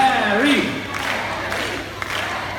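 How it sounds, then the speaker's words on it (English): A bird circus audience claps and chants in support of a green macaw. Crowd voices and rhythmic clapping swell together, with an announcer's voice heard at the start. "What you have to do is just clap your hands and call out his name."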